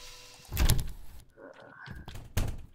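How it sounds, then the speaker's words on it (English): A door in the Baldi's Basics school game opens with a loud thudding bang, followed by a short creaking slide and a second heavy thump, close and distinct. "I hear every single door you open."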